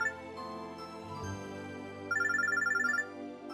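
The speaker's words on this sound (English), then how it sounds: "ringing is going on for a while." Telephone ringing in the visual novel game Robotics;Notes Elite: an electronic ringtone with tonal notes shifting, then a fast trilling ring burst, clean and fairly quiet with no voices.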